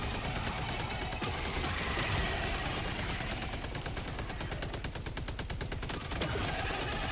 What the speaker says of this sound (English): Even before the machine gun turret drains him, he dies.